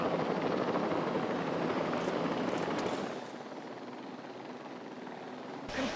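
A helicopter in Jurassic World Evolution 3 gives a loud, steady rotor roar that drops to a quieter hum about halfway through and then swells slightly at the end.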